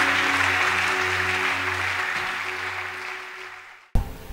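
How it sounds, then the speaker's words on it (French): A church congregation at a solemn convocation applauds to acclaim the Lord, a sustained wash of clapping over a held organ chord that slowly fades out before a sudden cut. "On acclame le Seigneur notre Dieu et notre roi"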